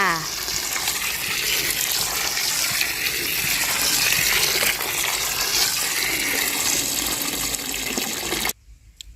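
Dried chillies washed in water: loud continuous rushing, sloshing water throughout, close and dense, stopping abruptly near the end.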